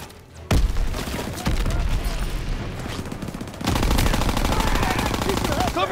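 Sustained machine-gun fire and rapid gunshots in the video game Call of Duty: WWII, a dense, loud barrage that starts with a sharp burst and gets heavier toward the end, with shouted voices mixed in.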